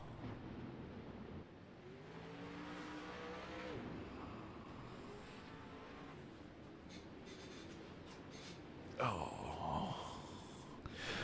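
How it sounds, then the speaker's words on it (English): 360 sprint cars run a pace lap at Lanier in iRacing, engines a low, steady drone throughout, rising to a louder, brighter whine near the end as a car comes close. "Guys will do another pace lap in these 7 cars."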